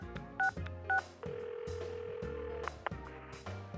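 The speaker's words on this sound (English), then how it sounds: "I dial Yosuke's number." A phone number is dialed in the Persona 4 Arena Ultimax video game: two short dialing tones, then a steady tone over soft background music, all fairly faint.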